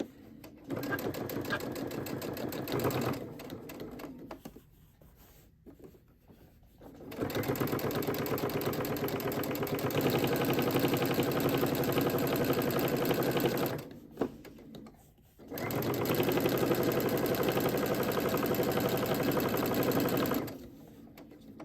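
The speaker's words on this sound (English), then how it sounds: "you're gonna raise your presser foot, turn that corner, and just keep sewing" A sewing machine stitches a cloth napkin with mitered corners, running in long steady bursts of rapid mechanical chatter, pausing briefly twice as the presser foot is raised and the corner turned, then sewing on.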